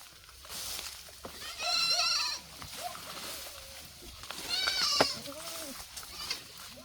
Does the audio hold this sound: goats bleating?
yes